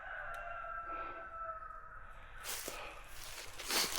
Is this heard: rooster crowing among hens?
yes